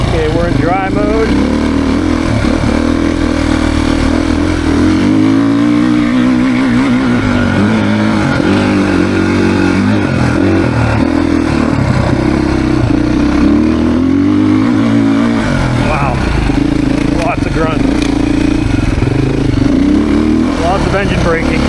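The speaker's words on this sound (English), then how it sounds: "Engine braking." A 2024 Beta dirt bike engine revs loud and close on a demo ride, rising and falling with throttle and engine braking, while the rider talks.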